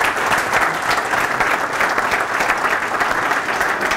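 An audience at a poker event applauds as the marketing director of the Dépêche group comes up to join the host, a loud, sustained, even crowd clapping with no speech over it.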